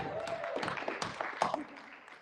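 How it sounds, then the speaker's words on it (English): Audience applause at the Star Wars Celebration podcast stage: a short burst of crowd clapping at moderate volume, thinning out toward the end. "gotta give a round of applause"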